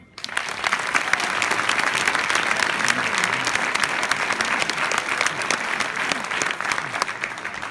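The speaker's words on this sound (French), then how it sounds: "Je vous remercie de bien vouloir les applaudir" Evening event crowd of several hundred applauding two singers: dense, loud clapping that swells in at once and stays thick and continuous, easing slightly at the very end.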